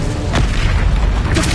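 Bombarda, an explosion spell in the video game Hogwarts Legacy, goes off as a loud, dense, rumbling blast that fills the whole moment without a pause.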